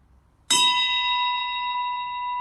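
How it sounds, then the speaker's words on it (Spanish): A single bell struck once to signal the saluting of the flags at the close of a meeting, ringing out sharply and then sustaining a long, steady metallic tone that slowly fades. "Toque de campana."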